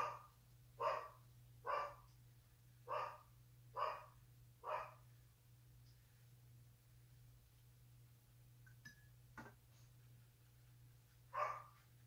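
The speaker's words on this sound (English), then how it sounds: "It's impossible to do a video without him barking." A dog barks in a short run of five sharp woofs, then a lone bark follows after a pause, over a steady low hum.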